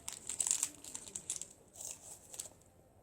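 A packaged Nutymax chocolate bar being unwrapped, with crisp crinkling and tearing of the wrapper close by in quick bursts, fading into quieter rustles.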